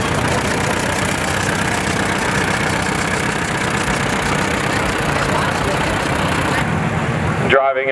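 A 1945 Farmall N tractor runs in an evening antique tractor parade. Its engine gives a steady, rough, broadband rumble that fills nearly the whole stretch, with crowd or announcer voices likely mixed in, then cuts off near the end.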